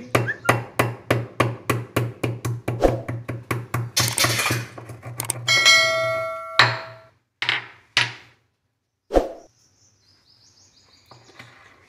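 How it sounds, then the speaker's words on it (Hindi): Black peppercorns pounded by hand for arbi pakode, giving a steady run of sharp, close, rhythmic knocks that speed up, then a few scattered louder strikes and scraping, with no talk. "अब हम काली मिर्च लेंगे उसे भी पीसेंगे"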